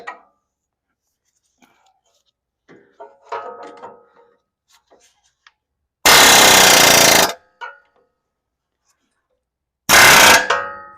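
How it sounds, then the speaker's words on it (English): Pneumatic air hammer pounding on an upper control arm of a Lexus GX470, two loud sustained bursts of rapid hammering, the first over a second long and a shorter one near the end, with faint workshop clatter between. "I'm gonna see if I can get my air hammer squeezed in here"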